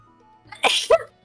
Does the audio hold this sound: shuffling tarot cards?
no